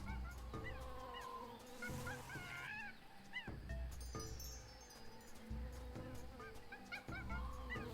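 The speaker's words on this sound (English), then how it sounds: "That's a monkey." A jungle monkey calls in the adventure game Tales of Monkey Island, giving a few sharp, honking, rising yelps over a busy, layered ambience of jungle animal cries, fairly loud and close, with no speech.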